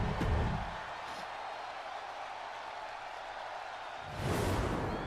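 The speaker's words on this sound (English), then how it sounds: "You can hear the crowd, so it speaks for itself." Crowd noise in the WWE 2K22 wrestling video game, a steady roar of arena cheering that swells louder at the start and again near the end.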